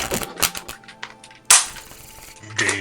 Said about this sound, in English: Varric reloads his gun.